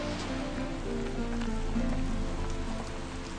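Steady rain falls on a dark, muddy day, a dense continuous patter at even loudness with a low background hum running beneath it throughout.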